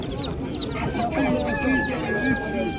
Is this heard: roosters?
yes